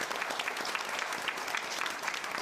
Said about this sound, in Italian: vorrei il vostro applauso per la nostra presidente Donata Indaco